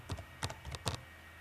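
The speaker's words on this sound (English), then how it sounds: "you see I'm typing here" Three quick bursts of clicky keystrokes on a computer keyboard, close and distinct, with brief quiet gaps between them.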